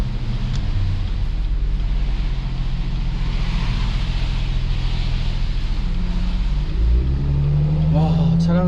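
A Chevrolet Malibu being moved, a steady low engine rumble up close, with a person talking briefly near the end.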